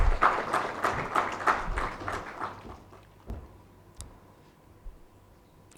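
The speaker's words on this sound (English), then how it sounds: "A big round of applause for Mr." Applause at a coal industry conference: brief, moderately loud clapping that thins out within about three seconds, followed by quiet room tone with a few scattered claps and clicks.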